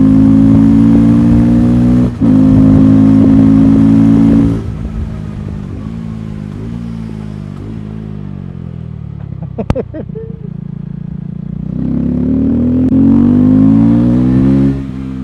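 A 2024 KTM 390 Adventure single-cylinder motorcycle engine revs up under acceleration, pitch climbing, easing off midway and rising again, loud and close with wind rush.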